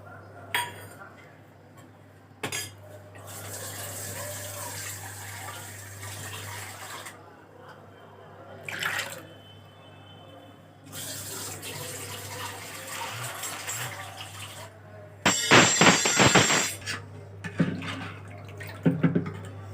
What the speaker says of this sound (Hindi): इसमें हमने डाले पानी थोड़ा।